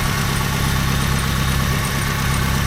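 A Subaru Brat with a swapped-in WRX engine idles after a cold start, a steady, close, even rumble with a fine regular pulse and no voices.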